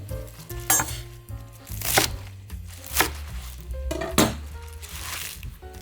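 Kitchen knife chopping green onions (jjokpa) on a cutting board for kimchi, a few sharp close knocks spaced about a second apart over light background clatter and a low hum.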